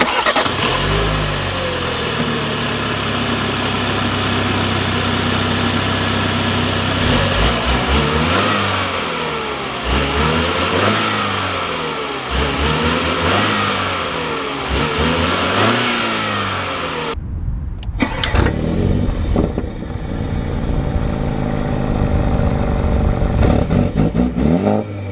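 A 2022 BMW 520i M Sport's 2.0L inline-four single-turbo petrol engine cranks and fires, settles into idle, then revs repeatedly in rising and falling sweeps, loud and close, with a short pause before further revving.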